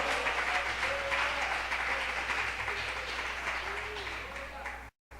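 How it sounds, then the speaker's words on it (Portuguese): A church congregation applauds to the Lord, steady full clapping with faint voices mixed in and a low hum beneath, tapering slightly before a sudden dropout near the end. "Aplauda ao Senhor com o seu melhor"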